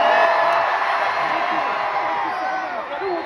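A large crowd at a concert in LA roars and cheers continuously, a dense, loud wash of screaming voices with whoops rising and falling throughout.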